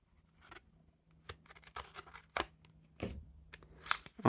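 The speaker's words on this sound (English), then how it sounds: "Now we press down that seal. Grab our handy dandy card opener." A small card opener slices the seal on a Fulton's Thunderbird Room playing card box, giving a series of close, sharp clicks and crisp cutting snips that grow louder toward the end, with no speech.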